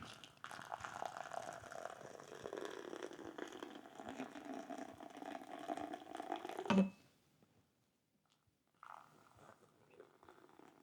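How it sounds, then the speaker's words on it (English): Near-boiling water is poured onto ground Brazilian natural coffee for a cupping, a steady gurgling pour lasting several seconds that cuts off abruptly, leaving near silence before a faint sound resumes. "pour the 150 millilitres of water in there"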